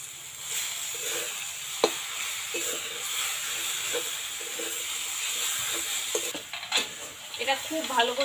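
Salt being stirred into taro greens cooked with a hilsa fish head, a spoon scraping the pan in a steady rhythm over a soft continuous sizzle and hiss.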